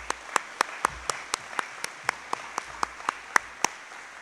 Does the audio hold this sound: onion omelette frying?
no